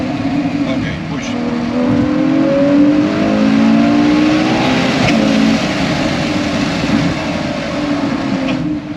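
A Ferrari 812 GTS with its naturally aspirated engine pulls hard and revs up, a loud close drone that climbs and falls steadily in pitch across the whole stretch, with some occupant chatter audible beneath it.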